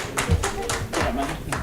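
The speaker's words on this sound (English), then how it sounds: "Please clap for Jamie." An audience claps for a speaker being introduced at a workplace health and safety session, steady rapid applause close by, with a voice talking over it.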